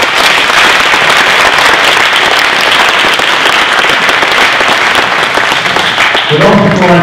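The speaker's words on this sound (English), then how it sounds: "Give them a round of applause, please." Sustained, dense audience applause at a school academic awards night, loud and steady throughout, with a voice beginning to speak right at the end.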